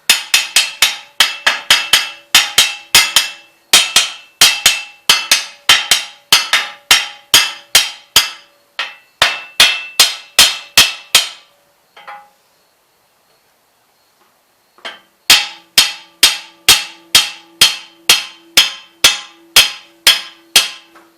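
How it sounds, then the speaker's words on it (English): Sharp metallic hammer taps on snow blower gearbox parts in quick, steady runs, several bursts of ringing strikes separated by a short pause, close and fairly loud. "Take a hammer and just kind of lightly tap these down on."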